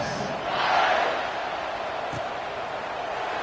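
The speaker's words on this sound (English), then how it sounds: "this crowd is buzzing after that last score" A college football stadium crowd in an SMU game buzzes with a broad, steady roar that swells briefly early on, with faint bursts of voices on top.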